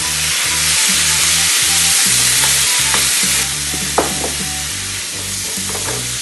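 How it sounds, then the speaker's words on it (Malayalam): Marinated chicken with a splash of water fries in a pan for pepper chicken, giving a loud, steady broadband sizzle with occasional spatula knocks and scrapes, close up and without talk. "ഇതിലേക്ക് നമ്മുടെ മാരിനേറ്റ് ചെയ്ത ചിക്കൻ ഇട്ട് കൊടുക്കുവാണ്."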